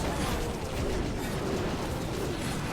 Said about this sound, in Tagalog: And nabasag pa dito yung walls sa may likod ng Town Hall.